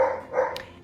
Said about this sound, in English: Everybody decides to bark now, so of course, here we go